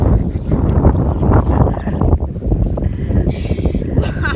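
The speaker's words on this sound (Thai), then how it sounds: "จับไม่ได้ฮะลมแรงจัด" Strong wind buffets the microphone outdoors at a fishing spot, a loud continuous roar with gusty swells throughout.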